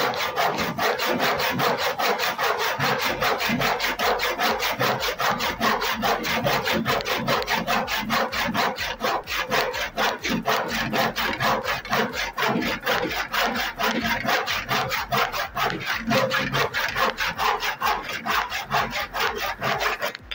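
A 22-inch, 8 TPI hand saw rasps steadily through wood in fast, even back-and-forth strokes, loud and close, continuing without pause and with no talking.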